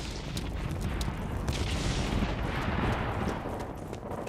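Game gunfire in Blacklight Retribution, a steady dense wash of rapid shots, booms and rumbling battle noise, with occasional sharper cracks standing out, held at moderate level throughout.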